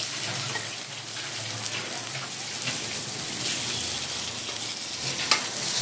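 Chopped onion frying with garlic and chilli in oil for shegla bhaji, a continuous close hiss of sizzling with faint stirring and no talk.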